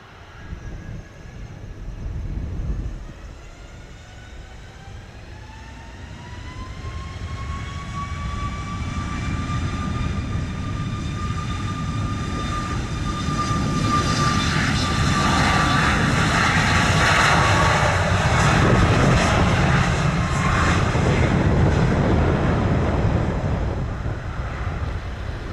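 A Southwest airliner takes off from runway 07 at Montego Bay, Jamaica, its jet engines building into a loud sustained roar with a rising whine, and wind buffets the microphone.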